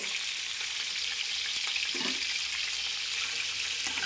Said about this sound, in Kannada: ಲೋ ಫ್ಲೇಮ್ ಇಟ್ಕೊಂಡೆ ಇದನ್ನು ನೀವು ಫ್ರೈ ಮಾಡ್ಕೋಬೇಕು